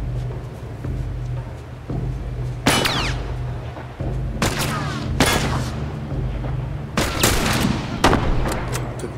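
Gunfire in The Last of Us on PS4: several sharp, loud shots ring out in irregular bursts over a low rumbling backdrop, with no talking.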